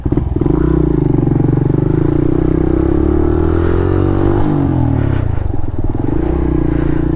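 A Suzuki RV125 VanVan motorcycle engine runs loud and close, a steady low throbbing drone that rises briefly as it revs, with clattering mechanical noise over the top and no talk.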